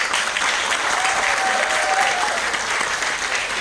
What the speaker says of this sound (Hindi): सो एक बार जोरदार तालियां हो जाए